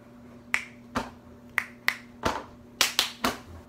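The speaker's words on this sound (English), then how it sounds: "I clapped. I snapped." Eight sharp finger snaps ring out close and dry, irregularly spaced over a few seconds with a quiet steady hum underneath, no voices.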